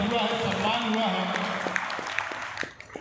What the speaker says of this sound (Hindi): एक बार जोरदार ताली के प्रतिनिधियों के लिए स्वागत हुआ है